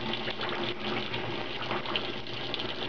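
Hot water pours steadily from a tap, a close, continuous gushing hiss with no pauses across the moment.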